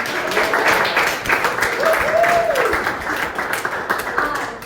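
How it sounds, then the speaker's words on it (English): Applause from a gathered group at an exhibition fills the space steadily, a dense clapping wash with a brief voice or whistle rising through the middle. "let's give ourselves a round of applause"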